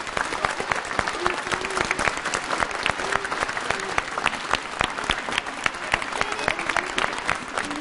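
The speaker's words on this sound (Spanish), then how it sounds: "podemos brindarle un aplauso cariñoso" A church congregation at a Pentecost Sunday Mass claps warmly in steady, crackling applause that carries on evenly throughout, with faint voices beneath.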